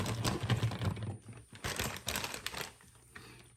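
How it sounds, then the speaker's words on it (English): Knife halving Brussels sprouts on a board, a quick run of close, crisp cuts and clicks with uneven rhythm. "cut these in half"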